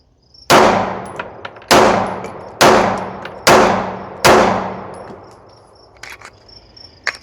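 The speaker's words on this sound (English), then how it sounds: "We'll do a quick 5-round burst." Five sharp handgun shots fired in a quick, evenly spaced burst, each loud crack followed by a ringing decay, with a few faint clinks afterward and no talk.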